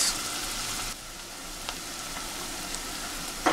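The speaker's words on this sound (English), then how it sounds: "I will make the onion fried for about 1 minute." Onions frying in a pot for Nigerian party jollof rice, a continuous close sizzle that drops slightly after the first second, with a couple of faint clinks of stirring; no voices.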